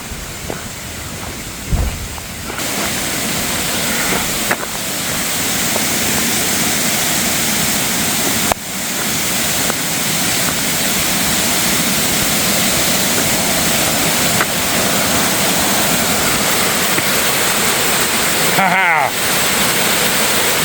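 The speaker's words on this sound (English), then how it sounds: "Waterfall." Rushing water roars steadily in a broad, constant wash, with brief knocks and rustles nearby.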